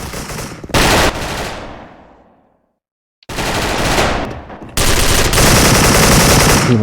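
Loud bursts of automatic fire from a DISCO AK74 rifle in a shooting video game, a short burst, then a fading tail into silence, followed by two longer sustained volleys, close and harsh.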